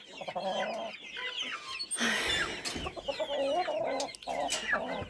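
Chickens cluck and chatter close by in a farmyard as chicks walk in, with scattered higher peeps and calls throughout and no clear speech.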